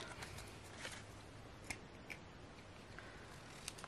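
Scissors snipping through a paper glue book page, a few faint, close crisp snips spaced irregularly over a quiet background hiss.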